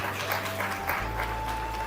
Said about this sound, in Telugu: చప్పట్లు కొట్టి దేవుని నామాన్ని.